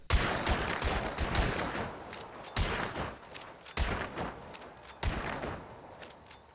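Rapid, repeated bursts of Vandal rifle fire with the Levering trait in the video game Hunt: Showdown, sharp cracking shots in quick clusters separated by short pauses, loud and close.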